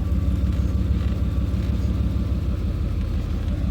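A BMW E39 M5 with 340,000 miles and brake trouble produces a steady, loud low engine rumble that holds evenly throughout, with no voices.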